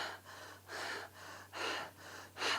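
A voice imitating panting and heavy breathing, about five rhythmic breathy puffs in quick succession, close and moderately loud, with no words.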